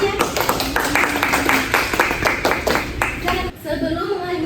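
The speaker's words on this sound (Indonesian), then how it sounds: "beri tepuk tangan buat teman-temannya" Students in a classroom clap their hands in a quick, fairly close rhythm of individual claps, with voices briefly audible underneath before the clapping stops near the end.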